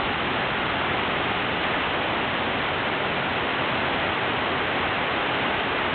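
Steady dense hiss of rain falling on rooftops during a thunderstorm, broad and unbroken, with no voices or distinct drops standing out.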